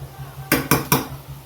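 A metal lid set down on a pot of kada biryani: three sharp, close metallic clanks in quick succession over a low steady background hum.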